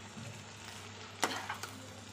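Garam masala and chopped coriander stirred into a frying pan of pointed gourd (potol) curry: a soft steady sizzle with a couple of sharp spatula scrapes near the middle, close and fairly quiet.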